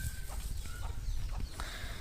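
Chickens on a poultry farm cluck softly and intermittently in short repeated calls, fairly faint against a low rumbling background.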